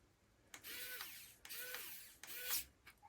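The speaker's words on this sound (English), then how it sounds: "Let's grab my screwdriver." Screwdriver driving screws into a Pimoroni NVMe case for a Raspberry Pi 5, heard as three separate bursts of ratcheting, clicking turns, each lasting about a second, close and fairly quiet with no talk.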